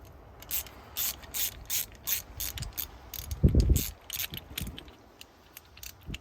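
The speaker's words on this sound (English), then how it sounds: "we'll need a wrench to loosen this" Ratchet wrench loosening a 9/16 bolt while installing a Retrax Pro XR bed cover on a 2022 Ford F-350 Tremor, a run of quick metallic clicks and rattles with a louder clunk midway, close by with no talk.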